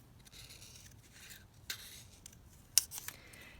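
Scissors cutting out pieces in a quiet room give a few faint, scattered snips, with a sharper cut near the end.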